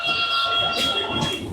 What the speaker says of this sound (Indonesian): Itu kereta yang barusan udah cabut.